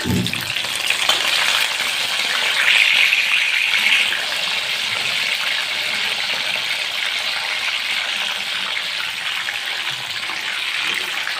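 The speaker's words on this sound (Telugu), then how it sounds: "ఆయిల్ హీట్ అయిందండి ఇప్పుడు ఈ కార్న్స్ ఇందులో వేసుకుందాం" Corn kernels frying in hot oil give a loud, steady, dense crackling sizzle that runs throughout, close by, with no speech over it.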